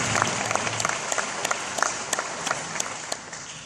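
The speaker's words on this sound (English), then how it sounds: "sure like to give these guys a round of applause for the project that's going on" An audience at a high school football banquet claps for the stadium project, a steady wash of many hands with sharp individual claps popping through, moderately distant and gradually thinning toward the end.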